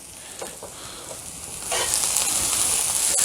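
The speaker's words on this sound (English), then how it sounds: "These are frying nice." Thin potato slices sizzle steadily in a hot pan, a close, even hiss that grows noticeably louder partway through, with no voices.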